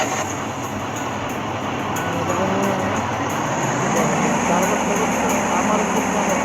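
Airplane engine in a Bangla-played vehicle simulator game, a continuous steady drone with a high whine, loud and unbroken, with a voice speaking over it.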